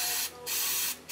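Carburetor choke cleaner is sprayed from an aerosol can onto aircraft spark plugs from a Piper Supercub, in two close hissing bursts.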